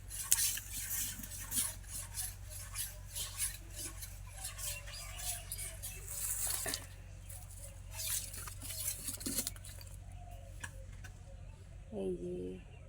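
In a home kitchen, rice cooks in a pot on the stove while metal utensils clink and scrape against it in irregular, close taps and stirring strokes. A voice talks at times over the clatter.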